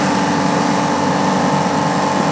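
An overloaded compressor motor in a small wooden shed runs with a loud, steady, unbroken hum and drone, close by and alone.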